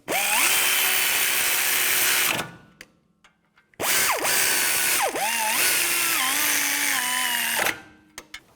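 Power tool run in two long bursts, tightening rear brake caliper bracket bolts on a 2015-2020 Cadillac Escalade; a loud, steady whine that bogs and pitches up and down, with a short quiet gap and ratcheting clicks between bursts.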